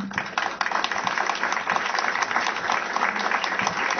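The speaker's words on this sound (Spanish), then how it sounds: "compartimos el aplauso para el doctor Raúl Rugia" An audience at a conference on personal data protection in social security applauds after a talk, steady continuous clapping from many hands at moderate distance throughout.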